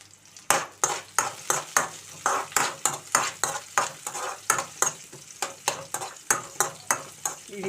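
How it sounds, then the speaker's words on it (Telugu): Onions and curry leaves frying in a pan, with a sizzle under regular rhythmic scraping strokes of a spoon stirring about twice a second, close and clear. "ఇది బాగా ఎర్రగా వేగక్కర్లేదండి, ఉల్లిపాయలు మెత్తబడే వరకు వేయించుకుంటే సరిపోతుంది"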